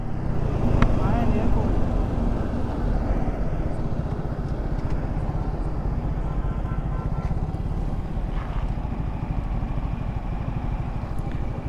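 Road traffic passes beside a queue of trucks on a night motorcycle ride from Dhaka to Bogra, with a constant close engine drone and rushing wind throughout.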